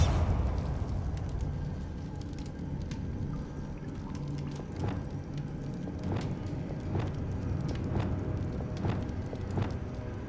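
Bombarda explosion spells cast in the game Hogwarts Legacy, a series of sharp booming bursts over rumbling ambient game sound, repeating irregularly through the scene.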